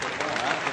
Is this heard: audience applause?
yes